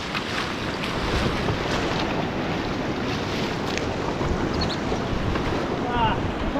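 A raft is rowed through river rapids at the Sangam in Ladakh, with a dense, continuous roar of rushing water and wind buffeting the microphone, close and loud throughout.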